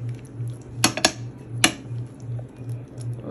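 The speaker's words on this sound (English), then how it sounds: "I'm just gonna go ahead and kind of re-spread it out in the pan" Spinach chicken dip being spread in a baking pan, with a few sharp clicks and scrapes of a utensil against the pan over a steady low hum.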